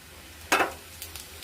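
Mustard seeds, cumin and curry leaves are dropped into hot oil in a home kitchen pan, setting off one sudden loud burst of sizzling and crackling, followed by a few faint pops over a low hum.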